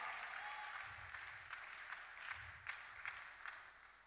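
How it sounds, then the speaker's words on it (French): A congregation applauding the Lord at a church seminar, steady clapping from a crowd heard at a distance, with a few louder bursts toward the end. "Acclamez pour le Seigneur"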